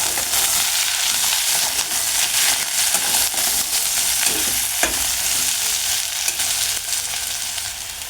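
Thin potato slices fry in a hot pan as a spoon stirs through them, giving a steady dense sizzle with soft scraping strokes throughout, close and fairly loud.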